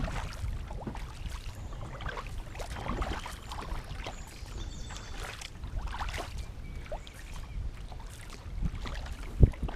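Canoe or kayak being paddled along a river race course, soft repeated strokes and water splashes close by under steady wind and current noise, with a sharp knock near the end.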